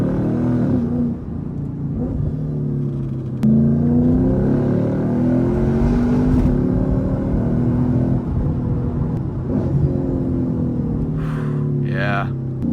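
A Lexus IS F with a new aftermarket exhaust downshifts on the move, the engine note blipping and dropping through gears in a steady cabin rumble, with people talking over it throughout.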